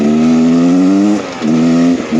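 Beta Xtrainer 300 two-stroke enduro motorcycle, a 2023 model, revving loud and close in a steady buzzing drone that dips briefly twice, then climbs again.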